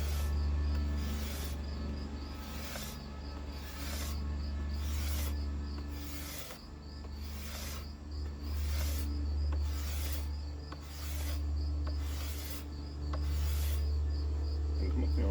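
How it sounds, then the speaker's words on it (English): A hard scraper smooths the limb of a 72-inch red oak longbow, making rhythmic rasping strokes, about a dozen evenly spaced scrapes over a steady low background hum. "Now I'm going to kind of smooth it out with my hard scraper."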